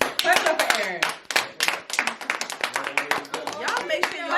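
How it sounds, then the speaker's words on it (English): Clapping for the host of a podcast, with several people's hands striking in quick irregular bursts close to the microphone and voices chiming in over the claps. "Clap it up for Aaron."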